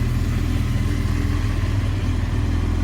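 A Honda CBR 900RR FireBlade motorbike engine idling after a radiator replacement, a steady low throbbing rumble running evenly and close throughout with no talk.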